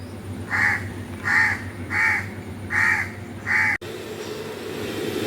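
A crow caws five times in a steady, evenly spaced series, loud and close, over a constant low hum, then falls silent after a brief click.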